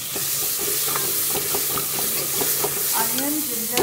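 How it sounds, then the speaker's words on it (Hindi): An onion, ginger and garlic masala frying in a pan as it browns: a continuous close sizzle with regular light scraping and clinking from a spoon stirring. "अब मैं अपना मसाला भून रही हूँ जब तक ये ब्राउन नहीं हो जाता।"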